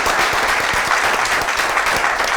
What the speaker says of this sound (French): On peut s'applaudir quand même bien fort quand même.